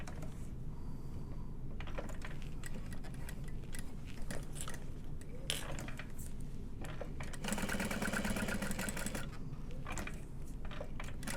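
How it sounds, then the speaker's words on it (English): A sewing machine top stitches around a handbag, a rapid, steady mechanical clatter running close throughout, growing busier and louder for a stretch near the end, with no voices. "we're going to top stitch all the way around"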